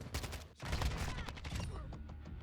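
Rapid automatic fire from a Kastov 545 rifle in Modern Warfare II, a dense string of shots lasting a couple of seconds, moderately quiet with game ambience.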